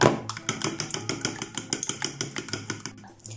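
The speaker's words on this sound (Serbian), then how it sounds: "Ulupat ćemo 2 cela jajeta." Two whole eggs are beaten in a bowl for a meatless potato bake, giving fast, rhythmic clicks and taps that repeat steadily and close up, with no talking.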